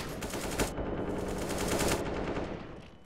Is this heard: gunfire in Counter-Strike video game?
yes